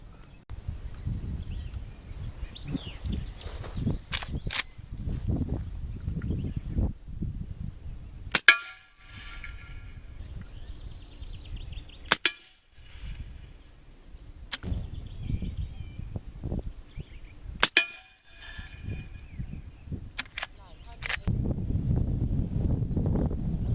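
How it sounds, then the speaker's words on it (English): Subsonic .44 Magnum rounds from a CFE Pistol load striking a steel trap, a few sharp metallic clangs spaced several seconds apart over outdoor rumble and wind, the impacts crisp and ringing briefly. "when it hits that trap, I mean, it makes a clang. You can definitely hear it."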